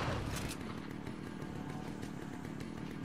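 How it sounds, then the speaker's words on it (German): In Resident Evil 4 on the Wii, a chainsaw enemy's saw drones on as a steady, buzzing engine roar, loud and continuous for a few seconds. "Ah, ich höre Kettensäge."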